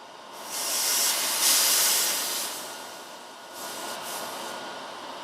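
Compressed air hisses out of the bleed valve on a Lil' Foot 2.0 high-pressure PCP air compressor, a steady broadband rush that swells for a couple of seconds, eases off, then returns more softly near the end.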